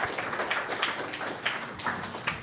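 Audience applauding at a hackathon final demo livestream, a brief patter of scattered claps from a small group, moderately close and fairly steady over a couple of seconds.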